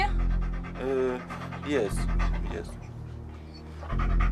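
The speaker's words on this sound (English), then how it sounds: "Police dogs." A police dog pants in quick rhythmic breaths close by, mixed under a person talking and low background rumble.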